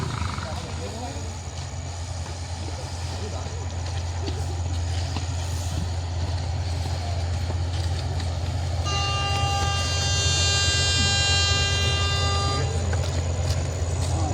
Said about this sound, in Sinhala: ඔන්න මේ පැත්තෙන් කෝච්චියක් එනවා.